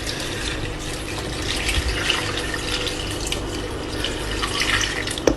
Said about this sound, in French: On va mettre de l'eau petit à petit parce que c'est rempli.